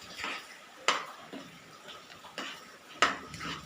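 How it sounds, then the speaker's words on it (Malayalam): Jackfruit seed and mango curry being stirred with ground coconut paste in a pot, a few sharp spoon taps and scrapes against the metal at irregular intervals over soft wet mixing, with no talking. "നല്ലോണം മിക്സ് ചെയ്ത് കൊടുക്കാം."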